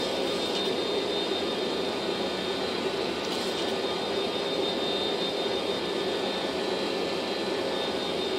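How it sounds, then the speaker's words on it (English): Jet airliner engines of a Boeing 727 freighter in MSFS 2024 roar steadily as the plane accelerates, a continuous, loud and even engine drone with no voices. "And we're going to accelerate nicely over to 250 knots."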